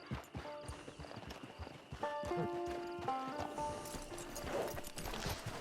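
Steady clip-clop of horse hooves walking in Red Dead Online, with a whinny and layered game music tones over the rhythmic hoofbeats throughout.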